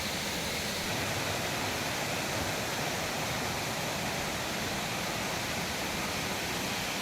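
The Valuruvi waterfall in the Kolli Hills roars steadily, a dense unbroken rush of falling water filling the air, loud and constant throughout with no voices.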